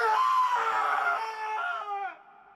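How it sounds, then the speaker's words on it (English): A high, sustained scream from a horror film, loud and strained, wavering in pitch for about two seconds before trailing off into a thinner, fading cry, with no talk over it. "listen to that scream"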